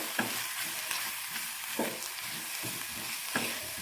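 Turmeric and garam masala sauté in oil for a potato masala, with a steady close sizzle and a spatula scraping the pan in regular strokes about every second and a half. No voices are heard.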